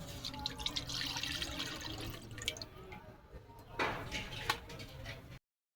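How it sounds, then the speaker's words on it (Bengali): Milk pours into a pan set up for chicken curry, making a continuous soft trickling and splashing with a brief louder splash partway through, before cutting off abruptly. "এবার এই দুধ দিয়ে দেবো"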